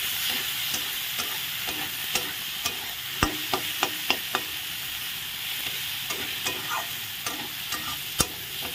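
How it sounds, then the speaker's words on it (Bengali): Spatula stirring fried potato, onion and tomato with meat masala and chili powder in a pan, steady soft sizzle under scattered sharp scrapes and clacks, no voices. "এখন দিয়ে দিলাম মিট মশলা আর লঙ্কার গুঁড়ো দিয়ে ভালো করে নেড়ে নিচ্ছি"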